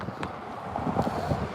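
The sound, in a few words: strong gusting wind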